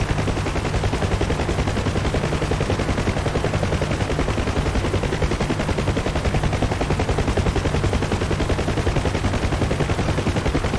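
Helicopter door gunners fire machine guns in a video game, a continuous loud rapid burst of gunfire rattling without pause throughout, with no talking.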